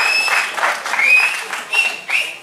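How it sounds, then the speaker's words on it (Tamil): Applause from an audience at a film trailer launch event in Tamil Nadu, dense clapping sustained across the whole clip with high whistles above it. "தயவுசெய்து அவருக்கு ஒரு கை தட்ட முடியும்."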